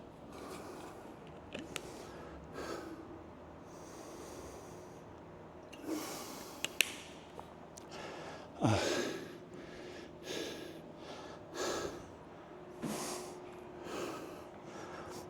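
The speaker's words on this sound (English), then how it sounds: "Breathing, getting it under control." Heavy, ragged breathing after a weightlifting set: close snorts, gasps and sharp exhales come in uneven bursts, louder midway and gradually settling, with no talk.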